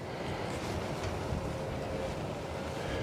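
Gusty wind blowing across an outdoor vegetable garden during spring planting, a steady broadband rush with buffeting against the microphone, continuous and fairly loud with no talking.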